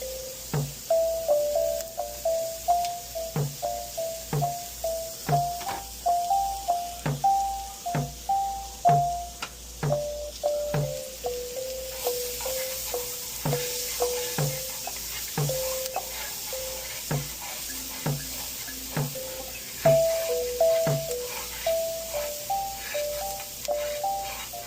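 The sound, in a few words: onions frying in a pan with melted spinach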